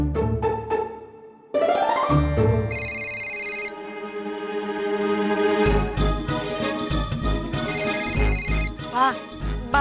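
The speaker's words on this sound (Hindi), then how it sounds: "बा फोन उपाड़ू, मेरी सहेली का फोन होगा।" An electronic phone ringtone trills in repeated bursts over a busy musical background from a TV drama, with voices and other sounds mixed in.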